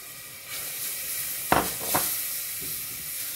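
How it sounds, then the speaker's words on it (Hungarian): Chopped onion drops into hot olive oil roux for tomato soup, setting off a steady close sizzle with two sharp bursts of crackle as pieces land, then settling back to an even hiss. "Rakom bele a hagymát."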